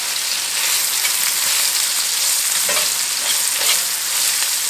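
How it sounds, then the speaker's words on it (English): Okra frying steadily in a hot pan, a continuous close sizzle with occasional soft stirring or flipping noises and no voices. "So now the okra's been cooking about 5 minutes."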